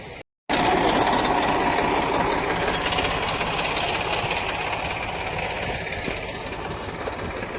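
A tractor engine running in a farm field before crop spraying, a loud steady rhythmic diesel chugging that starts after a brief silence and continues alone with no talk.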